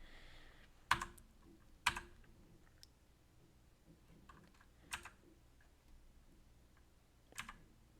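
Keys on a computer keyboard are struck in a few sparse, sharp clicks spread several seconds apart, close and distinct against a quiet room.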